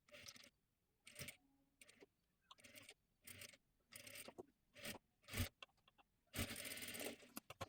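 A sewing machine stitching a round seam on a blouse in quick separate bursts, each run a close, fairly quiet rattling whir broken by short pauses, with a longer burst at the end.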